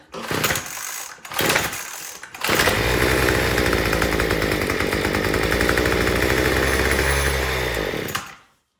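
A Troy-Bilt TB225 tiller's small gas engine kicks in with a couple of short sputtering bursts, then settles into a loud, steady, buzzing run close by for several seconds before cutting out abruptly.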